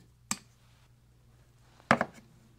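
A purple vehicle wire is snipped in half with two sharp, quiet cuts, one near the start and a louder, slightly doubled one about a second and a half later, with little else around them.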